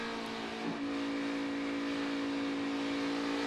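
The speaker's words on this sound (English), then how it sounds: "You can hear him just working that throttle pedal, right?" A NASCAR Xfinity Series race car engine heard from the in-car camera at Las Vegas Motor Speedway, a loud sustained high drone with a slight pitch shift as the driver works the throttle.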